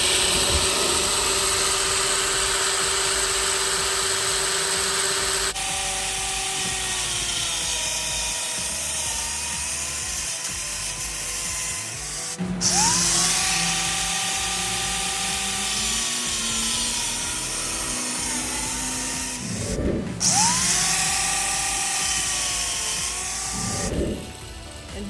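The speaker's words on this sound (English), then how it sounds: "Warrior angle grinder with a cutoff blade on it" A Warrior angle grinder fitted with a cutoff blade slices through PVC pipe, a steady high whine running throughout with pitch bending and dipping as the blade loads and frees, plus brief gaps between passes.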